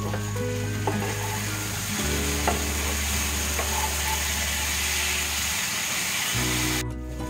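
Pointed gourd with spices and black pepper powder fries in a pan as it is stirred, a steady close sizzle with scraping stirs and light clinks throughout.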